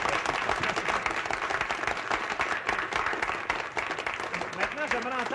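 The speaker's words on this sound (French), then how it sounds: "On l'applaudit, votre curé." A crowd applauds the parish priest at a Soirée canadienne evening in St-Fabien de Rimouski, dense clapping running steady for about five seconds with voices murmuring underneath.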